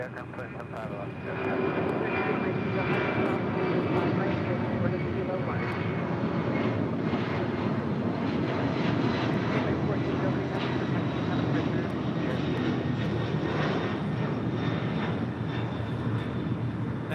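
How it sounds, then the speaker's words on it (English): A 39-year-old DHL Boeing 767-200 converted freighter, operated by ABX, taking off from LAX, its loud sustained jet roar rising after a quieter start and persisting, with a voice speaking over it. "That was DHL operated by ABX Flight 1403 departing to Cincinnati on a 39-year-old 767-200 converted freighter."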